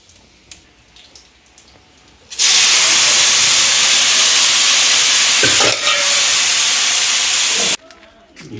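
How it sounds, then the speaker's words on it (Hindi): Dal being tempered with cumin, green chili and tomato in an ashram kitchen bursts into a loud, steady sizzle that lasts about five seconds before cutting off sharply, with quieter kitchen background before and after. "गुरु जी दाल बघार रहे हैं, दाल में तड़का लगा रहे हैं।"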